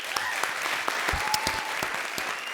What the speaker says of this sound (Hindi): उसके लिए जोरदार तालियां हो जाएं।